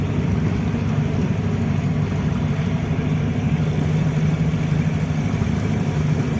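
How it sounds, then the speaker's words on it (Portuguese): A Volkswagen Beetle, a Fusca, rolls along a dirt road, its air-cooled engine giving a steady low rumbling drone with a rough, continuous texture and no voices. "Bom, pessoal, estamos com o fusquinha aqui na estrada. Estradinha de terra"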